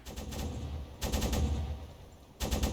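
A U-boat deck gun fires in the naval game Uboat, loud rapid bursts of repeated shots in three clusters with brief lulls between them, no voices over it.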